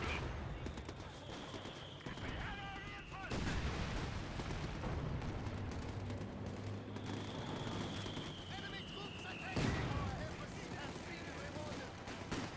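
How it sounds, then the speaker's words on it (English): Company of Heroes 2 battle sounds: a mortar barrage with incendiary rounds and crackling gunfire, two whistling incoming shells each ending in a heavy blast, all quiet under a commentator's continuous talk. "Incendiary mortar barrage onto the mortar emplacement."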